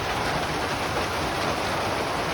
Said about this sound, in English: we are in a mighty hailstorm, thunder, lightning.